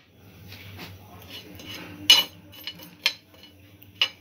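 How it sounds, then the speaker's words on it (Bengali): Whole spices (mace, cloves, cinnamon, cardamom, fennel and nutmeg) dry-roasting in a pan over a medium-low flame: a quiet, faint rustle broken by a few sharp metal clinks and scrapes of a spatula against the pan. "এই মশলাগুলো আমি একটু ড্রাই রোস্ট করে নেব।"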